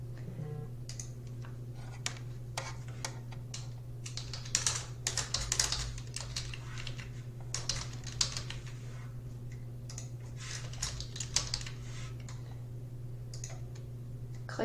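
Typing on a computer keyboard, a close, irregular run of light key clicks with occasional faster bursts and pauses over a steady low hum, no voices.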